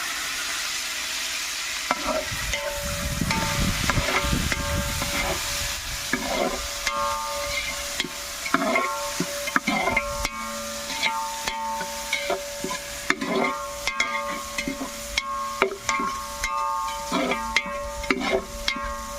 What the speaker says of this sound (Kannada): ಎಣ್ಣೆಯಲ್ಲಿ ಫ್ರೈ ಆಗ್ತಾಯಿದೆ ಈರುಳ್ಳಿ ಹೆಚ್ಚಿದಂಥ ಈರುಳ್ಳಿ